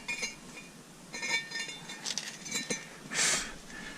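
A brake rotor is slid onto the hub of a Ram pickup truck, giving a few light, close metallic clinks and scrapes scattered over a quiet background, with one brighter ring of metal near the end.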